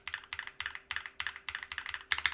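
Crisp, rapid clacking of a mechanical keyboard being typed on, steady bursts of keystrokes close up with a slightly metallic ring, no talking.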